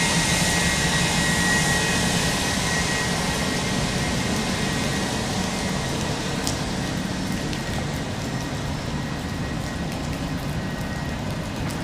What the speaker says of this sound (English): There's a plane coming in